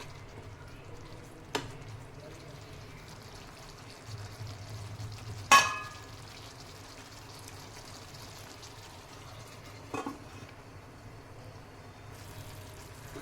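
Dum aloo, a potato curry, simmering covered on a low gas flame: a soft steady cooking hiss runs throughout, with a few brief clinks and knocks from the pot and lid.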